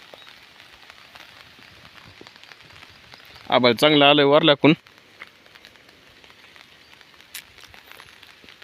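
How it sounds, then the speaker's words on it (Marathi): Steady rain falls on an umbrella in an open farm field with soybean crops and a grazing buffalo nearby, a constant soft patter throughout, with a brief burst of loud talk in the middle. "छत्री घेऊन बसलो चालू झाला आहे पाऊस"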